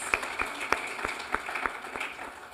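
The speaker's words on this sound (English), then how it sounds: "I think that deserves a round of applause." Light applause from a small audience at a leadership program gathering, scattered claps at irregular intervals, fairly faint and brief.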